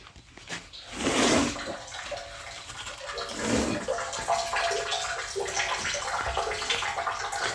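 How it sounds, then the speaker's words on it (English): Filtered grey water from a grey water filter pours and splashes steadily nearby, with a gushing surge early on, then a continuous flowing rush. "The water which is used in kitchen, it is coming here after filtration."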